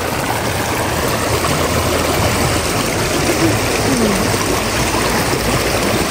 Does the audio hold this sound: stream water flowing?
yes